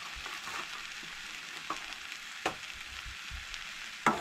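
Turmeric and chole masala sauté in a pan for Goan-style chole, a soft, faint sizzle with a few sharp scrapes or clinks, the loudest near the end, no voices.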